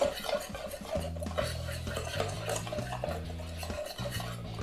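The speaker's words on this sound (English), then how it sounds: "But let's get it all whisked up here." Whisk clattering against a bowl while mixing batter, a rapid steady scraping and tapping rhythm heard close up with no voices.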